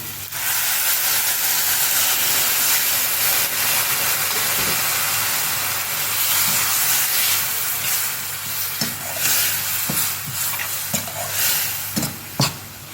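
Water poured into a pan of tomato masala frying for an anchovy thokku sets off a loud, continuous hissing sizzle, with scattered clicks and stirring clatter toward the end.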